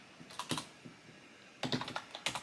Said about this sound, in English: You're going to type in credit